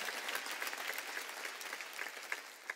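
A congregation applauding during a church service, dense continuous clapping from a crowd that fills the room evenly for a few seconds, with no talking over it.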